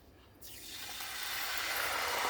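Canned tomato sauce poured into a pan for porcupine meatballs: a soft start, then a steady, gently swelling liquid hiss that grows louder over a couple of seconds, with no voices.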